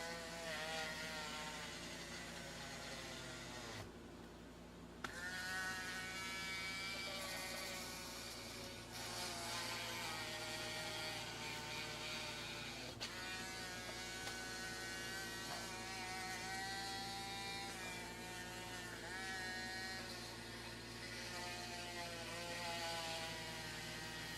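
A power drill whirs steadily for a long stretch, drilling pilot holes while mounting an antenna, its motor pitch rising and dipping as it bores into material, with a brief pause partway through.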